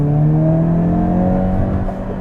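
A 2023 Hyundai Kona N with its 2-liter turbo four-cylinder in N mode holds a loud, close, steady engine drone with a rising pitch, alone without talk.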